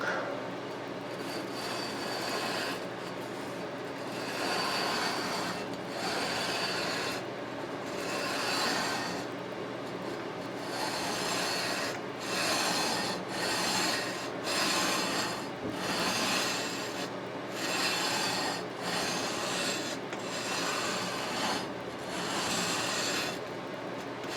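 Heavy leveling beam with 320 or 220 grit abrasive sanding the frets of an Ibanez RG-550M guitar neck, a continuous close rasping rub in long back-and-forth strokes.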